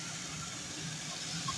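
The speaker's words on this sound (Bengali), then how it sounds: "এই যে আলুগুলো দেওয়ার পরে আমি ভেজে নিচ্ছি" Potatoes with onion and green chili fry in a pan, producing a continuous, even sizzling hiss with a faint low rumble beneath, steady and fairly close.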